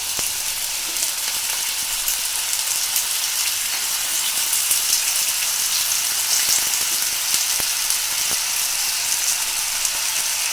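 Large potato chunks fry in hot oil for a Sindhi-style dish with green garlic, giving a steady, close, continuous sizzle with fine crackling that holds evenly throughout, with no voices.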